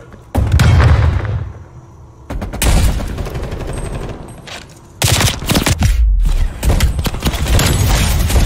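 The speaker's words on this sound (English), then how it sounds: "Stun grenade out." Stun grenade and heavy gunfire from a Call of Duty Cold War Domination match on The Pines, with loud repeated bursts, booms and rattling shots coming in several dense clusters close up.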